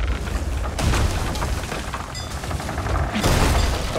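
Ship cannon fire in the pirate video game Sea of Thieves: loud, dense booming blasts with crackling debris that swell, ease off briefly and return near the end, with no talk over them.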